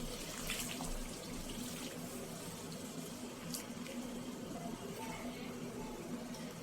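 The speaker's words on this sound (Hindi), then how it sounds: "तो अब हमने इसमें पानी डालना है जितना आपको पसंद है, इतना आप इसका शोरबा बना सकते हैं।" Water is poured steadily into a pot of potato kofta curry, a continuous splashing gush that lasts throughout without pause.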